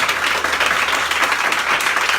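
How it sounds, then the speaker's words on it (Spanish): Dense, steady applause from a church congregation in Montevideo, Uruguay, a continuous close wash of many hands clapping at once with no pause, lasting the full two seconds. "Damos un fuerte aplauso a nuestro eterno Rey de Gloria"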